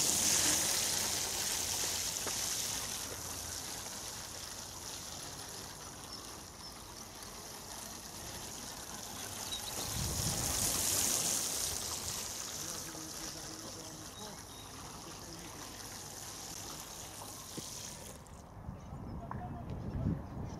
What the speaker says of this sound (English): Give them a water. I'm going to give them plenty because the soil might be a bit dry underneath.